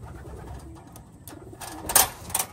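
Racing pigeons cooing softly at close range, a few low murmuring coos followed by brief wing flutters or rustling, with no talk.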